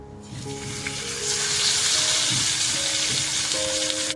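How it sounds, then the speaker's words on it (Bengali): Spiced fish frying in a pan, a loud continuous sizzle and crackle of hot oil that swells slightly and holds steady, with faint clinks underneath. "ফ্রেমটাকে একদম সিমে করে দু পিঠ হালকা করে ভেজে নিয়েছিলাম"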